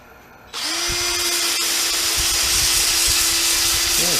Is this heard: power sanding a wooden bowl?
yes